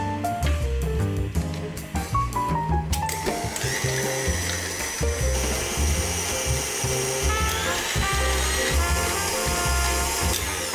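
Electric whisk beating cream with vanilla for a pavlova, a loud continuous motor whine with shifting pitch and rattling beaters, up close and with no one talking.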